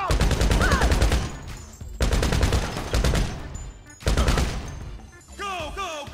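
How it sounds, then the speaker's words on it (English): Gunfire in the game GTA 5 with a real-life mod, heard as three sustained bursts of rapid shots separated by brief gaps, loud and dense, followed by sharper scattered whines near the end. "I don't know what type of gun was that."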